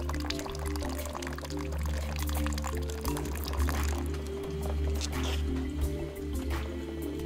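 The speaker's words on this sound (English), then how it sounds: "The water goes like that one, then it goes to the reservoir, then you can recycle that water." Water trickles and drips steadily through a soilless hydroponic vertical farming system, a close, continuous flow with splashy drips over a low mechanical hum and no talking.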